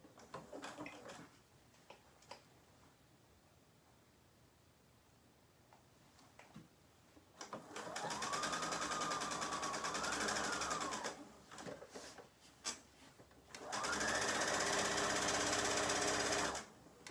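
A sewing machine stitches a Japanese knot bag in two bursts of steady mechanical whirring, each lasting about three seconds, separated by a quiet stretch with scattered handling clicks and rustles.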